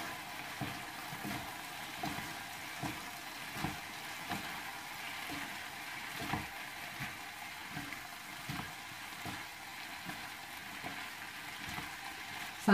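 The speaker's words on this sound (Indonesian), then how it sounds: "Kita aduk terus sampai merata bumbunya, semuanya meresap ke labu siamnya." Chayote being stirred as it sautés with seasoning in a pan: a steady close sizzle with a soft scrape of the spoon repeating every second or so, no voices.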